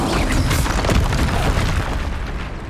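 The Expulso blasting spell explodes in the Hogwarts Legacy video game with a loud, close, booming blast that rumbles on and slowly fades over a few seconds, with no voices over it.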